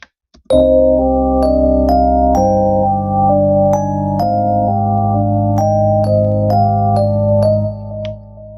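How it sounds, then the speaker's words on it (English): An electric-style sampled synth preset from FL Studio's DirectWave plays a repeating melodic pattern over sustained low bass notes, with sharp clicky note attacks recurring at a steady rhythm, loud and clean for about seven seconds. "For pattern 2 I used direct wave, and it was called electric"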